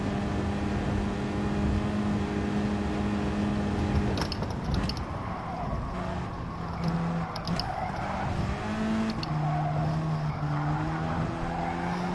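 A car engine drones and revs at a race, its note sagging and climbing unevenly under rattling and clattering, with no voices heard.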